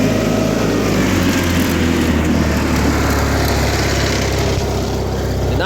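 A John Deere 316 lawn tractor mowing a field, its engine a loud, steady, close-up drone with a slight wavering in pitch, running alone with no voices.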